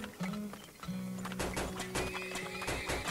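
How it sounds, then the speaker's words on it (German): Horses in the video game Turmoil whinny and clip-clop, a neigh opening and another following, with steady hoof beats and clattering steps close by and loud, no talking. "Noch ein paar Pferde hinzunehmen."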